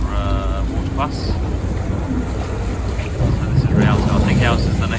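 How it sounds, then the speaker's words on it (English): A water bus boat on a canal in Venice with its engine rumbling over wind buffeting the microphone and sloshing water, and voices talking faintly in the background. "Another water bus."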